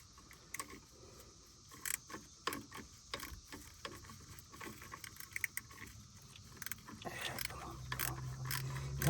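A ratchet clicks and metal parts clank while a bolt is turned during installation of a shift kit in an 85 El Camino, producing irregular close mechanical ticks and rattles over a steady background hum.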